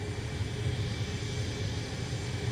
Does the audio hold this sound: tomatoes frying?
no